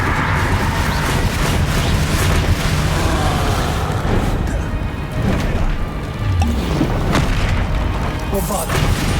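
Explosion spells cast in rapid succession in a Harry Potter video game, giving dense, loud booms and crashing impacts that run continuously through the passage.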